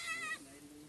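A young Beetal goat kid gives one short, faint, high bleat that quickly fades into quiet background hiss.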